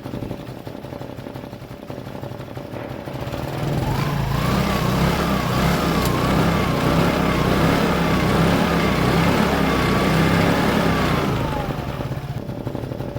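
A Piaggio Fly 125cc scooter engine idles while warming up, a steady close putter that rises into a fuller, slightly wavering hum for several seconds before settling back down.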